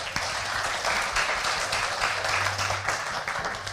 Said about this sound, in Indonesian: Tepuk tangan dulu dong untuk Pak Galuh.